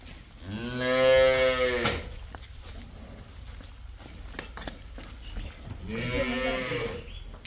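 Cows at a farm selling cows and buffalo give two long, close, loud moos, one early and one near the end, with a quieter stretch of farm noise between them.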